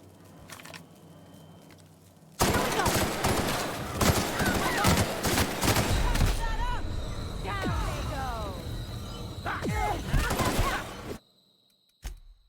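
Bursts of gunfire from a character being shot in The Outer Worlds, a rapid loud volley with sharp repeated shots and clattering hits, starting abruptly after a quiet lead-in and stopping near the end, with a lone later crack.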